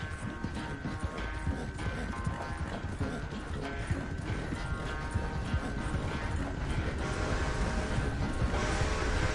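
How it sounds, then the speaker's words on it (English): A horse gallops in the video game Red Dead Redemption 2, its rapid clip-clop hoofbeats continuous and loud throughout, layered over busy game ambience and mechanical clatter. "Quizá no soy tan bueno cabalgando, pero tengo el mejor caballo"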